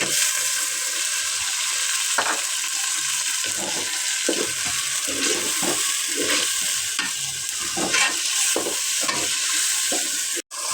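Spices for chicken biryani sautéing in a pan, a steady hissing sizzle with repeated scraping strokes of a spoon at an uneven rhythm, close and sustained, ending with a sharp clack.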